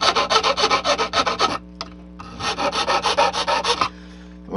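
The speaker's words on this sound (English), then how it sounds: "then I just need to clean up the corners and get the edges straight with a square file." A square file rasps along the edges of window openings cut in styrene for a model railroad feed-mill building, giving close, rhythmic back-and-forth strokes in two runs separated by a brief pause.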